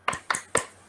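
Three sharp, evenly spaced claps in a classroom, a group performing a rhythmic cheer, each crisp and close, with silence between them.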